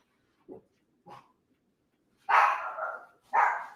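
A dog indoors gives two short, soft yips followed by two louder, drawn-out barks close by, with silence in between.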